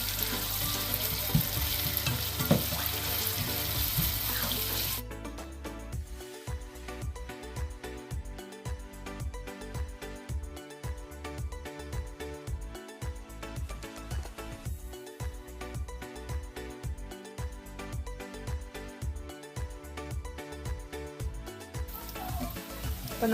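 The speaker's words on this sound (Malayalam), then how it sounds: "നന്നായിട്ട് ഫ്രൈ ചെയ്തെടുക്കണം." Onions frying for chicken dish in a pan, a steady loud sizzle throughout, with a brief noisy burst at the start and occasional stirring scrapes.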